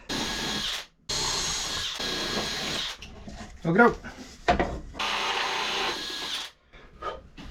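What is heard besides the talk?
power drill drilling through wood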